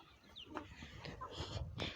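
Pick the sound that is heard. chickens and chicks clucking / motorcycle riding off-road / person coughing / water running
chickens and chicks clucking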